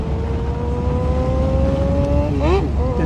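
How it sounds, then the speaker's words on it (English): Motorcycle accompanying a cross-country cycling race, its engine whine rising steadily in pitch before a quick rev and shift, close and loud under a commentator's voice and crowd noise. "Can you hear the song of the motorcycle as we head?"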